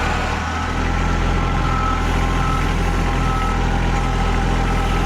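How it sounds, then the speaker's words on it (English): A tractor engine idles steadily with a loud, continuous low rumble and drone, close by, with no breaks or speech. "time to get the tractor."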